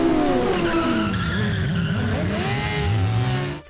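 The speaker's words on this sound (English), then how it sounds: "From the car chase in Jack Reacher to this." Car chase from the film Jack Reacher with tires squealing and skidding in long wavering whines over a roaring engine, loud and continuous, ending in a brief drop.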